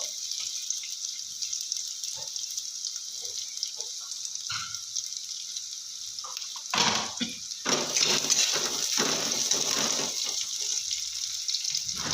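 Onion with white cumin seeds frying in a pan, a quiet hiss at first that swells into louder, busier sizzling and stirring clatter partway through, close by and with no speech.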